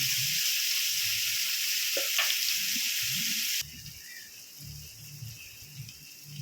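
Ground coriander and cumin sizzling with frying potatoes in a pan for egg curry, a bright steady hiss with a few soft stirring scrapes, dropping to a quieter sizzle partway through.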